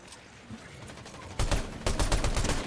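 Bursts of automatic gunfire in a Fortnite competitive match, loud and close, with a lighter volley first and then heavier rapid fire trailing into a second burst.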